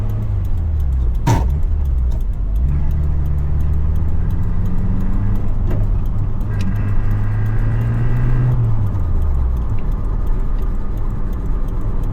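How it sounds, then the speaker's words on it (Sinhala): A 1991 Toyota Sera's engine idles steadily and smoothly up close, a loud continuous low hum with a faint ticking rhythm and slight shifts in pitch, with no talk. "එන්ජින් එක ස්මූත්ලි රන් වෙනවා"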